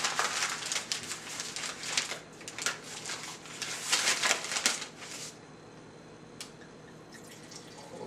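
A wine glass is rinsed with water during a Syrah tasting. Close splashing and trickling water with glassy clinks fills the first five seconds, then fades to a quiet room with one faint tap, and no talking.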